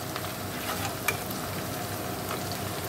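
Onions fry in a pan for a desi chicken curry, giving a steady, even crackling sizzle with a couple of sharper pops and an occasional soft stir, close by and alone without any talk.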